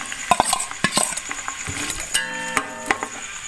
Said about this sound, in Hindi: अब इस प्याज को फ्राई कर लेंगे।